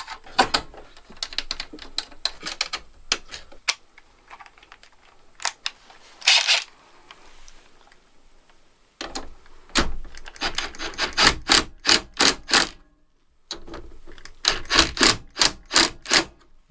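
Drill rattles in bursts of rapid mechanical clatter while tightening battery bank connections on an off-grid homestead power system, close and loud, with several short runs separated by pauses.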